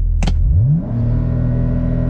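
A BMW with a DCT swap and single mass flywheel revs hard during a launch control attempt, a sharp rising engine note that climbs then settles into a loud, steady held drone close by.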